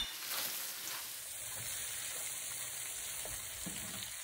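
Wood ears being stir-fried in a hot wok make a soft, steady sizzle and crackle. A few faint scrapes of stirring come through, with no voices.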